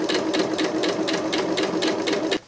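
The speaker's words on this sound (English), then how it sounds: "We're not doing anything fancy, we're just coming in with a straight stitch." A sewing machine runs a steady straight stitch through Christmas stocking fabric, its needle pulsing in a quick, even rhythm close to the microphone before stopping abruptly at the end.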